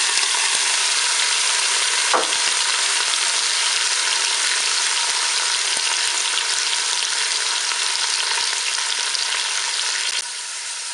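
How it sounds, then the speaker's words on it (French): Onions fry in a Cookeo multicooker on browning mode, a dense, steady hiss of sizzling oil that holds loud and even for the whole stretch before easing slightly near the end, with no voices. "Voilà, je suis à 2 minutes de fonction dorée,"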